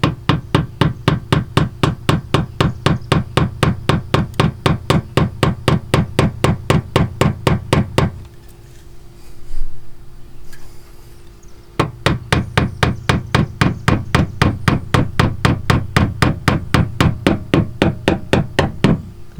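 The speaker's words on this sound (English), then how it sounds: "start hammering these pins in." Rivet pins are hammered into mud flaps on a BMW F30 with rapid, regular, loud close-up strikes that pause for a few seconds midway and then resume at the same steady pace.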